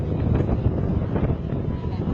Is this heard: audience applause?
no